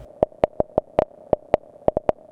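Synthesized horse hooves clop through a light spring reverb, a run of about a dozen sharp, pitched knocks in a loose, uneven rhythm, each with a short ringing tail and nothing else underneath.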